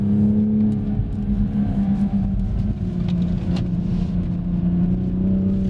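A 2020 Toyota GR Supra engine in sport mode drones loudly and steadily up close, a low throaty hum with rising whir as the car accelerates, no voices.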